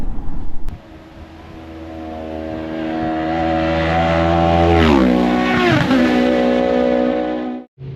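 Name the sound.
sidecar racing at Isle of Man TT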